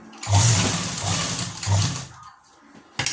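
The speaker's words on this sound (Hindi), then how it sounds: "पहले हम यहाँ से सिलाई लगा लेंगे" A sewing machine stitches the hem of an A-line palazzo, running in two short loud bursts with a low chugging rumble and then stopping.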